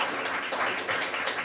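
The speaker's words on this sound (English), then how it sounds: "Round of applause for our guests." Audience at a Kansas Senate District 8 town hall gives a round of applause, a brief, moderately loud patter of many hands clapping together.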